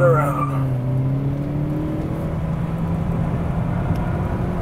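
Tires on a sports car break loose on a race track with a sustained squeal over the engine's drone. The squeal is loud at first and then eases into a steady rumble.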